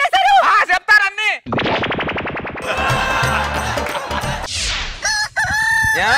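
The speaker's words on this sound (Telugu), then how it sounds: "ఏమే కోడి కూసిందిలే" A rooster crows amid a loud, busy mix of comic sound effects, with rapid gunfire-like bursts and music in a Telugu comedy skit.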